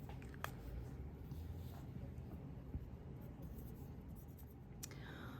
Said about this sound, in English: I'm going to write the answers